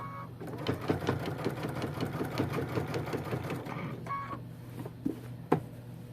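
A sewing machine quilting a fabric trivet runs in a fast, steady mechanical stitching rhythm at moderate volume, pausing briefly, then resuming with a few clicks.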